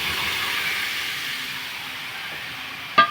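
Mango pieces go into a hot kadai for village-style mango murabba, producing a steady, fairly loud sizzling hiss throughout, with a brief clatter right at the end.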